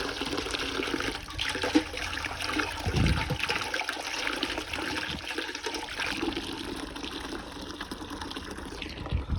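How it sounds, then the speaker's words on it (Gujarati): Water runs from a tap into a container for watering a lemon plant in a farm field, a steady close gushing stream with a faint gurgle and a low pumping undertone throughout. "તો પહેલાં ઓયથી પાણી ભરી લઈએ"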